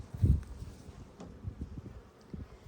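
Honey bees buzz around an open, agitated hive, a steady low hum with individual bees droning past close by and a louder burst near the start.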